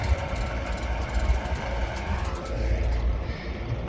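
A 656 tractor hooked up to a McCormick #46 hay baler rumbles steadily with a low, even engine drone, close and continuous, with no voices.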